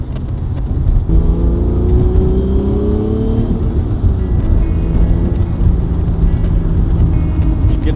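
An Acura NSX supercar engine pulls hard under acceleration, its loud, rising whir climbing steadily in pitch before settling into a sustained drone, with brief talk inside the car.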